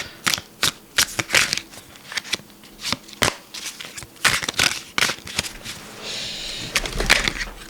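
A deck of cards shuffled by hand during a card reading, repeated crisp riffling bursts with short pauses between them, close and clear with no talk.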